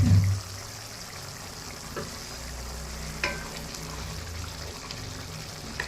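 Soft continuous sizzling of spices frying in a hot pan, with a brief clatter at the start and occasional light stirring taps.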